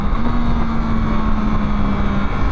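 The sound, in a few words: 2024 Yamaha MT-09 motorcycle engine on road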